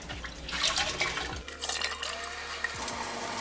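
Tap water runs and splashes in a sink while a freshly dyed mauve shirt is rinsed out, a close, uneven gush with a few wet handling sounds and brief clinks, no voices.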